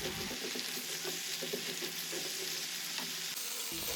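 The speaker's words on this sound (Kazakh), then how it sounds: "тағы да араластырып, жақсылап қуырамыз." Beef and onion stir-frying in a pan, a steady close sizzle with scattered clinks and scrapes of stirring and no talk.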